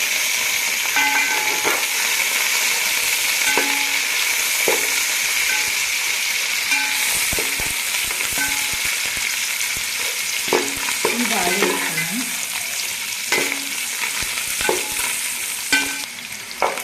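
Onions, green chilies and chicken fry loudly for biryani in a continuous dense sizzle, with a spoon scraping and knocking against the pot now and then throughout.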